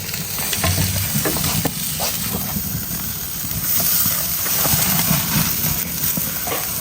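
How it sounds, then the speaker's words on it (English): A large steak sizzles steadily on a hot Big Green Egg grill, a continuous crackling hiss with small pops, close up and fairly loud. "Look at that sizzle."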